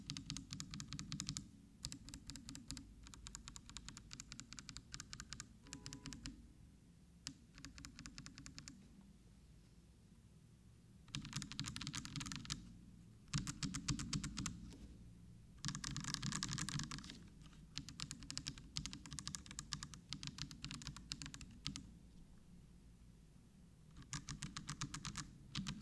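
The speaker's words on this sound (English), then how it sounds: "Let's actually take a listen to these switches on its own" Bare Akko Cream Blue switches, no keycaps fitted, on an Akko ACR Top 40 keyboard, typed in steady bursts of rapid, close clacky keystrokes separated by short pauses, with no talking.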